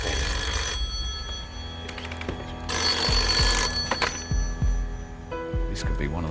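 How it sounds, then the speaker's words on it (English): A telephone rings repeatedly on a television game show, loud bursts of bell ringing alternating with pauses, with a low rhythmic thumping and studio noise underneath. "This could be one of the most important phone calls that you've ever been involved in"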